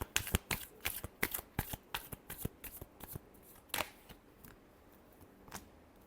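Tarot cards are riffled and shuffled in a quick series of crisp, close flutters and slaps that thin out into a few softer shuffles.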